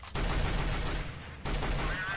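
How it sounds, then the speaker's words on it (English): Rifle fire in Counter-Strike: Global Offensive: two loud, dense bursts of rapid automatic shots, separated by a brief gap, close and dominant. "And Still, just such a great rifle on Still, as he's picked up one kill with that AK-47."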